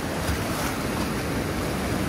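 A fast-flowing river in Uzbekistan gives a steady, dense roar of rushing water, close and loud, with no pauses and no voices.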